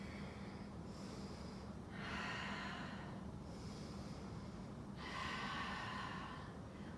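Slow, deep breaths are taken while holding the warrior two yoga pose. There are two or three soft, close inhale-exhale cycles with no talking.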